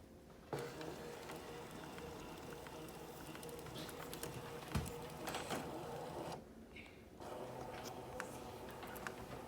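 A Brother ScanNCut 125DX cutting machine runs a scan, giving a steady mechanical whir with ticking and clicking and a brief pause partway through, heard up close with no talking.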